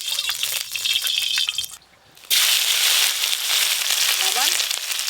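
Shrimp frying in a hot pan for a home-cooked Bengali dish, a steady bright sizzle that runs close and loud, breaking off briefly to near quiet before surging back with wet spitting crackle.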